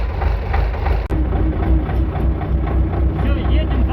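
A vehicle engine idles steadily while warming up, a loud, continuous low rumble that holds for the whole stretch, with someone speaking over it.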